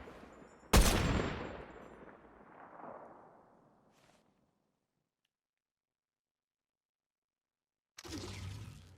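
A single loud sniper rifle shot in Fortnite cracks sharply and echoes away over a few seconds, followed by silence and then a brief burst of game noise near the end.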